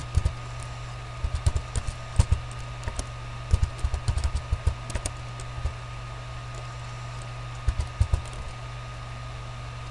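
Scattered clicks of keys being typed on a computer keyboard while entering a text label in CAD drafting software, in short bursts with pauses, fairly close over a steady low hum.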